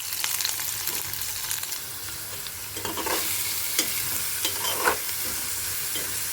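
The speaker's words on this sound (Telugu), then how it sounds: "ఉల్లిపాయలని కూడా బాగా ఫ్రై అవ్వనివ్వాలండి" Onions and green chillies fry in a pan for a bitter gourd curry, giving a steady close sizzle broken by a few stirring scrapes, with no talking.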